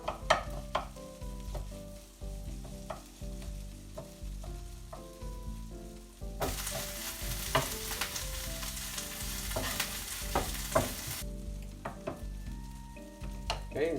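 Shredded potatoes for hash browns hit a hot pan and sizzle steadily, with a loud burst of frying in the middle and intermittent clatters of a spatula stirring, close and without talk.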